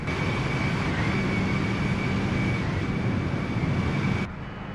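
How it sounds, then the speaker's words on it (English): Steady broadband roar of an airliner climbing past 29,000 feet en route from Brussels to Helsinki in a flight simulator, a constant engine and airflow drone with a faint tonal whine that drops sharply in level near the end. "Like, this aircraft is climbing."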